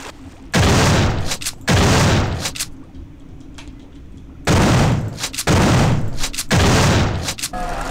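Heavy booming gunshots from System Shock 2 land in a slow series, five loud blasts with short pauses between, each followed by a rumbling decay.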